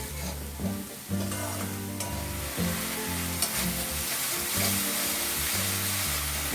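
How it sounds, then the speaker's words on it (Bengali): Masala paste fries in a pan over low flame with water added, giving a continuous bubbling sizzle under a droning background hum, with occasional stirring scrapes. "আস্তে আস্তে ফায়ারটাকে একটু স্লো করে রেখে জল দিয়ে দিয়ে আগে ভালো করে কষিয়ে নিতে হবে"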